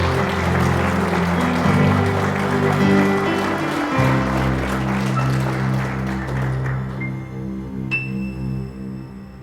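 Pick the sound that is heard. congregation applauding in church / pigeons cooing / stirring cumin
congregation applauding in church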